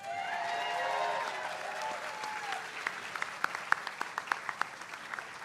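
Audience applause at a hall opening ceremony, a steady wash of clapping from the crowd that thins out into a few scattered, distinct claps near the end, with a voice faintly heard early on.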